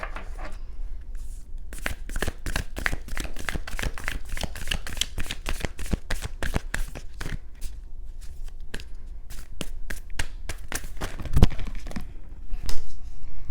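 Moonology tarot cards being shuffled by hand: a long run of quick, crisp riffling slaps at a steady rhythm, close and fairly loud, with a louder bump near the end.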